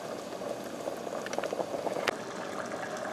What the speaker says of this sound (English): We'll let it simmer a few more minutes